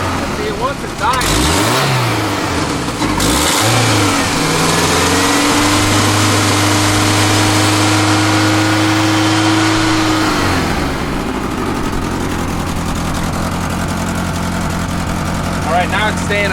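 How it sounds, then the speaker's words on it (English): A 1994 Ford Ranger pickup truck engine, close up, first revving in a few rising and falling sweeps, then settling into a steady idle, with people talking over it. "but now it's idling normally, I think."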